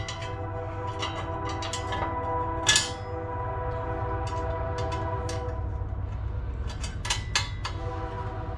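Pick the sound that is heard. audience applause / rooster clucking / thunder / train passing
train passing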